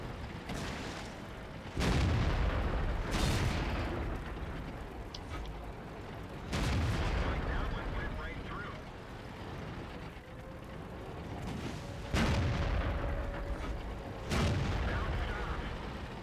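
Tank guns firing in the World of Tanks video game, on the El Halluf map with a Type 59: five loud, heavy booms spaced a few seconds apart, each ringing out over a steady rumble of engine and battle noise, with no talk.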